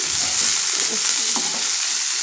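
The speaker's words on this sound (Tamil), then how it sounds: "இப்போ கொஞ்சம் மிளகா நல்லா வதங்கிக்கிச்சு" Close, steady sizzling of chillies frying in hot oil, with soft scraping as they are stirred.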